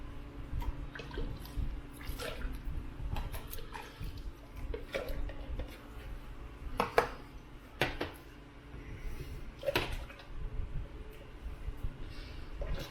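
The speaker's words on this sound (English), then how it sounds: "Now I use my ladle, get it all up in here." A ladle stirring hot homemade Mexican beer in a pot, with wet sloshing, dripping and occasional clinks of metal against the pot, close and steady, no talk.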